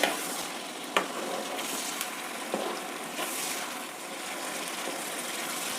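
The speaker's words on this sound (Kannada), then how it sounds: "ಇದನ್ನು ಚೆನ್ನಾಗಿ ಫ್ರೈ ಮಾಡಬೇಕು ಈರುಳ್ಳಿ ಬಣ್ಣ ಚೇಂಜ್ ಆಗುತ್ತೆ ಅಲ್ಲಿವರೆಗೂ ಫ್ರೈ ಮಾಡಬೇಕು" Onions frying in a pan as a continuous close sizzle, with a couple of light utensil taps against the pan, no one speaking.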